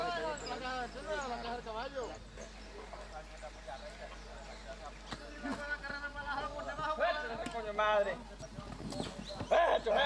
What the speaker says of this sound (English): hundreds of thousands of zebus and horses roam free across the dry plain